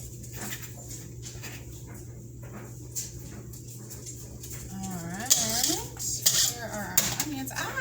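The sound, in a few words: puppy whimpering in the kitchen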